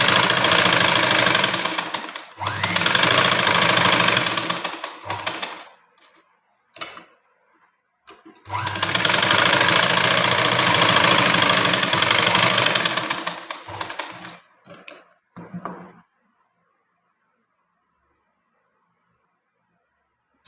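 A sewing machine stitches a blouse in two long, loud, close bursts of rapid steady whirring, each a few seconds, followed by a few short stop-start runs and then silence.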